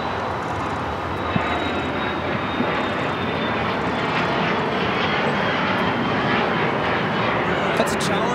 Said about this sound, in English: That's a Challenger 300 taking off to Mountain View with Vista America 534.